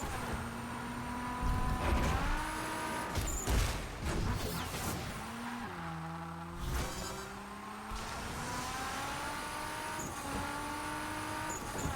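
A car races along the roads in the driving game Wreckreation, its engine revving up and down through gear changes, with a few knocks and bumps and a steady drone of tire and road noise.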